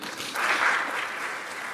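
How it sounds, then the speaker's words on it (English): Applause from a keynote audience in a conference room, a steady, moderately distant wash of clapping lasting under two seconds with no voices over it. "Here in this room today, give them a round of applause."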